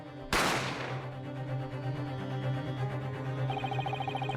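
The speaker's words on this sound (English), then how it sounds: "a gunshot echoed through the restaurant, right?" A single sharp gunshot from The Great Ace Attorney cracks loudly and echoes through a restaurant scene, then fades beneath a low, sustained musical backing.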